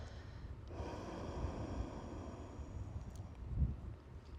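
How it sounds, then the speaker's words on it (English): A single slow, soft exhaled breath close to the microphone during a yoga relaxation pose, airy and faint with a slightly louder puff near the end. "I'm going to exhale."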